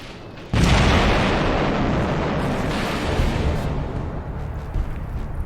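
Explosive charge detonating on the roof of artillery turrets at the Fort of Eben-Emael in wartime: after a quiet moment, a sudden loud blast erupts into a sustained, heavy rumbling roar that fills the remaining seconds.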